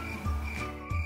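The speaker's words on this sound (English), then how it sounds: "It's a cricket." Crickets chirp in a steady, faint trilling pulse, with repeated short bursts heard alone.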